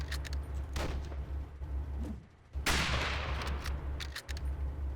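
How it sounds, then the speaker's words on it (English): An enemy anti-tank gun firing in the WW2 Online combined-arms battlefield game, sharp shots and bursts of gunfire over a constant low engine rumble, with one heavy blast standing out midway. "Enemy anti-tank gun."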